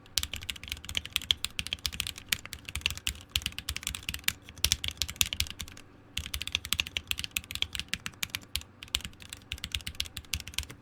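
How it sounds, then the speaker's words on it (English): Hard, forceful typing on a Unikorn mechanical keyboard: dense, loud clacking keystrokes in quick bursts, with a brief pause near the middle, and no voices. "Okay, this is me typing very hard."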